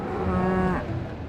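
A cow at a desert dairy farm on the outskirts of Dubai, home to around 12,000 cows, gives a single drawn-out moo of almost a second, close and clear over a low, steady farm background.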